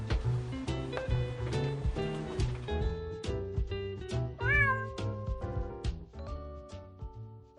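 A cat meows repeatedly in an attic room, its rising and falling cries set over a steady, rhythmic musical background.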